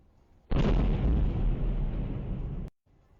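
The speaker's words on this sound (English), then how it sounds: "a video clip in the northwestern area of Moscow showing one of these drones exploding" A drone explodes in the northwestern area of Moscow, a sudden loud broadband blast with a roaring rumble that sustains for about two seconds before cutting off abruptly.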